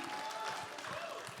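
At a stand-up comedy grand final, an audience keeps clapping for comedians Adit and Bobby, a brief, fairly quiet patter of applause with a voice faintly underneath.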